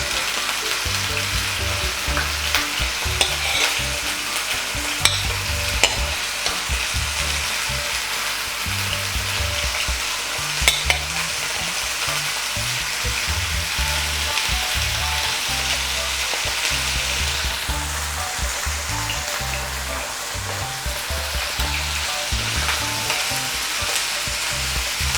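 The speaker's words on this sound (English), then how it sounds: "Oil is hot. You're going to put in your sausages." Breakfast sausages fry in hot oil in a pan with a steady, loud sizzle that runs the whole time, broken now and then by the scrape and clatter of the sausages being stirred and turned.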